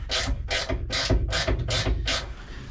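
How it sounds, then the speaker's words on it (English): A small hand ratchet with a 5/16 socket works a specialty bolt on a 1961 Chevrolet Parkwood wagon, six steady rasping clicking strokes in an even rhythm, close and loud, with no voices. "A little ratchet and 5/16 action."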